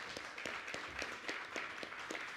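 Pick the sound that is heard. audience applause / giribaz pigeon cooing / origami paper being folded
audience applause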